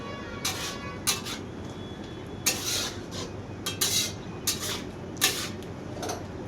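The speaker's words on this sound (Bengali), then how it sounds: "লবণটাকে ভালো করে শাকের সাথে মিশিয়ে নেব।" Spinach curry with salt being stirred in a pan, with scattered scraping and clinking of a utensil against the pan in irregular bursts at moderate loudness, no talking.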